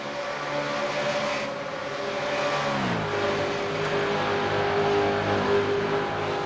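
A pack of race cars running nose to tail at Daytona road course, a steady loud engine drone with a pitch shift as the train of cars passes, continuous with no talk.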